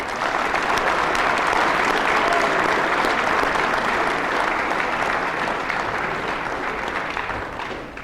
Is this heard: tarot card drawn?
no